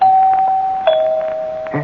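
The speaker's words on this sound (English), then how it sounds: "ring the doorbell again" A clear two-tone doorbell chime in an old-time radio drama rings, a single steady tone then a second slightly lower one, followed by a brief clunk.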